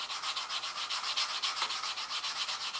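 A metal coin ring rubbed back and forth by hand to polish it, giving a close, steady rasping scrub in quick even strokes, continuous and alone.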